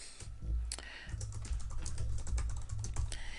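Someone types a name on a computer keyboard, a quick, close run of soft key clicks and taps that continues throughout at a moderate level.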